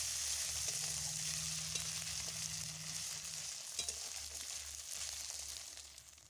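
Spice paste with ginger paste frying in a pan, a soft continuous sizzle heard close but fairly quiet, with a faint low hum underneath and a couple of light stirring knocks.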